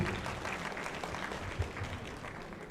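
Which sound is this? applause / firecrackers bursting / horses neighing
applause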